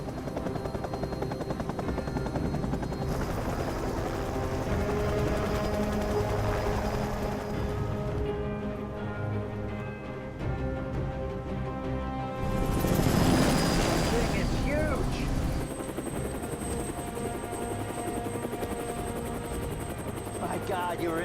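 A helicopter lifts off for takeoff in an action film scene, its loud, steady rotor and engine roar filling the scene and swelling partway through, with a high whine layered over a dense mechanical drone.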